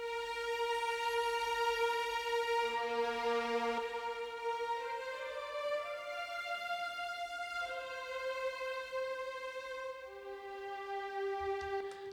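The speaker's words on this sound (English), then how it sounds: "let's go on with the second violin of the Cinematic Studio Strings" Cinematic Studio Strings violins play a sustained melody doubled in octaves, long legato notes stepping through changes with a steady, full sound and no talking.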